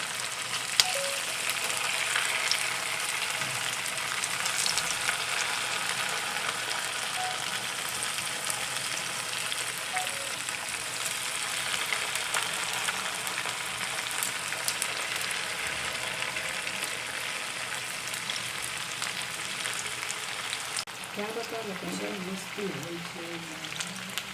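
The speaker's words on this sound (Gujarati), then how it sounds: "આપણું તેલ ગરમ થઈ ગયું છે તો આપણે ગેસ ધીમો કરી આ રીતે આપણે બધા ભજીયા એમાં પાડી દઈશું" Taro (ratalu) fritters frying in hot oil over a lowered gas flame, a steady dense sizzle that holds for the whole stretch, with a brief scrape or stir near the end and no speech.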